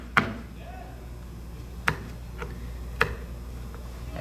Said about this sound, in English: I'm going to cut this end off here.